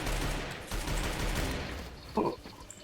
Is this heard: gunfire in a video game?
yes